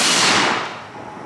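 A single loud gunshot at a range, a PMC X-Tac round fired at RMA body armor, with a sharp crack followed by a fading roll of echo and no voices.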